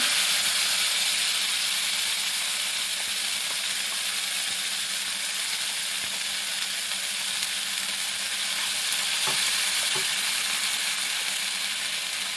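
Tomato paste fries in a pan with a steady, close sizzling hiss that holds evenly throughout, broken by a couple of faint clicks near the end and no voices.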